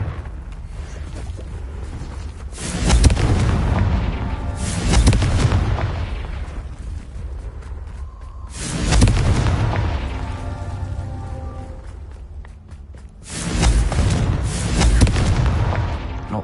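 Confringo spell blasts in a wizard video game: four heavy booming explosions spaced a few seconds apart, each with a rumbling tail that fades before the next hit.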